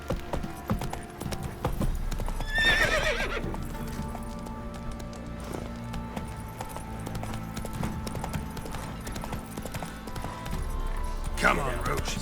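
Roach, a horse in The Witcher 3, gallops with a steady clip-clop of hooves, a whinny rising partway through and again near the end, the hoofbeats running under game music and a voice.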